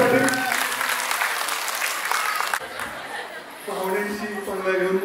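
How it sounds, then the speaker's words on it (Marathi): Applause rings out for a women's group at a Mangalagaur celebration in Saswad, a dense crowd clapping steadily, dipping briefly midway before swelling again, with voices mixed into the noise. "जोरदार टाळ्या पुण्याने आपल्या ग्रुपसाठी"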